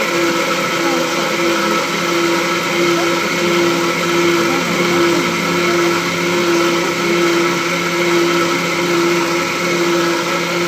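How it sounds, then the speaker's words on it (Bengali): A kitchen mixer grinder blends spice paste for a meat curry in a home kitchen, a steady continuous motor whine running loud and unbroken throughout, with no talk. "মশলা বাটা রেডি হয়ে গেছে মশলাটা আমি মাংসের জন্য বানালাম"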